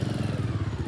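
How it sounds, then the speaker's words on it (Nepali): A motorcycle engine runs with a steady low throbbing idle on a rough rural road in Rukum, close and fairly loud, with no talking. "उसले अब यहाँ बाइक स्टार्ट गरेर आइरहेछन्"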